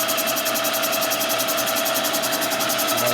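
Kwik-Way boring bar cutting a 1978 Harley-Davidson Shovelhead cylinder with a light finishing cut, a steady machine drone with a constant high whine, running continuously and close without pauses.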